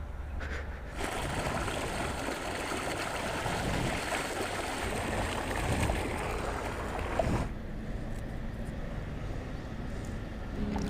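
Water rushes steadily nearby at a roadside cooking spot beside a national highway during a motorbike trip, a continuous broadband wash that drops away abruptly near the end.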